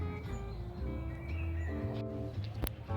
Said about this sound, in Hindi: ऑलरेडी आपको ऐसे चिड़ियों की चहचहाहट सुनाई दे रही होगी बैकग्राउंड में